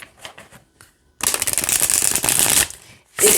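A thick, high-gloss tarot card deck being riffle-shuffled up close, a loud dense burst of flicking and riffling that stops before a final short rustle, after a few faint taps.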